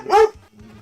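A single sharp, close dog bark, loud and brief, followed by a quiet tail.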